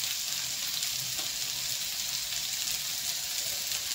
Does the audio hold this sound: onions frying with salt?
yes